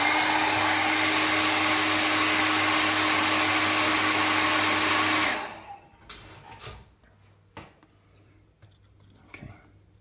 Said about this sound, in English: Just a quick blast with the hairdryer just to make sure it's completely dry.